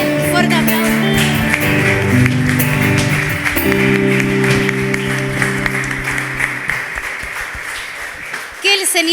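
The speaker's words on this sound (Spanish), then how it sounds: "Fuerte aplauso." Audience applause at a church service rises as a continuous patter of clapping hands under sustained music with held keyboard tones, and a voice calls out over it near the end.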